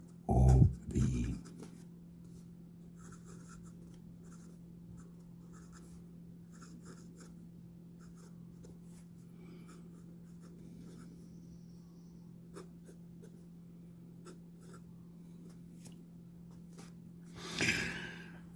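A Gioia Metis fountain pen with a 1.1 stub steel nib writing on paper, faint scratchy strokes repeating over a low steady hum, with louder knocks and handling noise at the start and near the end.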